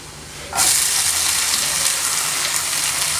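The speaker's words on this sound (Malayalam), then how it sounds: "ബട്ടർ ചൂടായി വരുമ്പോഴേക്കും നമുക്ക് ചെറുതായി അരിഞ്ഞിട്ടുള്ള വെളുത്തുള്ളി ഇട്ട് കൊടുക്കാം" Chopped garlic hits hot butter with a sudden loud hiss after a brief quiet moment, then a steady, bright sizzle continues close up with no talking.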